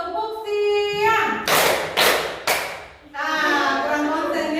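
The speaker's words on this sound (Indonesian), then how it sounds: "Tepuk siang" A school class performs the 'tepuk siang' clapping routine: three loud, evenly spaced group claps land between stretches of chanting voices in a classroom.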